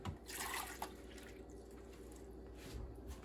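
Water is poured into the reservoir of a Keurig K-Mini coffee maker, giving a faint, close trickle and splash that swells briefly at the start before settling into a quieter, steady flow.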